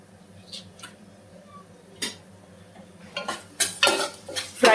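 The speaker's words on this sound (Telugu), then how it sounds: "ఇలా ఫ్రై అవుతున్న ఆనియన్స్లోకి మనము అల్లం వెల్లుల్లి పేస్ట్ కూడా యాడ్ చేసుకోవాలి" Onions frying in a pan with ginger garlic paste for drumstick curry, with scattered spoon clinks early on, then louder scraping and sizzle bursts building toward the end.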